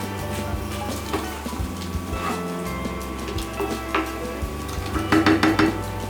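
Onions seasoned with salt and pepper are stirred in a pan, with steady sizzling under repeated scraping and clinking of a utensil against the pan, busier toward the end.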